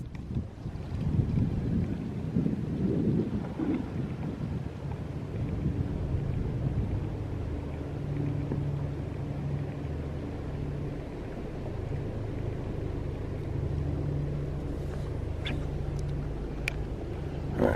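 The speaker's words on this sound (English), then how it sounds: "That sounds like a Chinook." A Chinook helicopter passes overhead near a Kansas fishing spot, a deep, steady rotor rumble with a low droning hum that lingers under gusty wind noise throughout.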